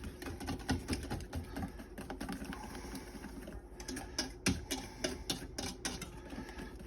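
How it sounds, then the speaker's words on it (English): Stand mixer with a whisk attachment beating meringue, a steady faint mechanical whir with rapid ticking and rattling throughout, no voices. "while it's mixing in the standing mixer with the whisk attachment"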